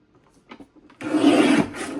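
Cardstock being trimmed on a paper trimmer for handmade card-making gives a close, steady rasping slide that lasts about a second after a few soft handling taps.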